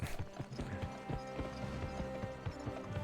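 Steady clip-clop of horse hooves in the PS2 video game Gun, a brisk repeated rhythm of hoof strikes over a constant game background.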